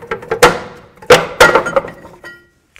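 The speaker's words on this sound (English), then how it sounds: "Let's go ahead and remove the rotor." Metallic clanks and knocks ring out as a brake rotor is worked loose from a rear hub on a 2007-2017 Ford Expedition, several sharp close hits spaced irregularly, then a faint ringing tail into quiet.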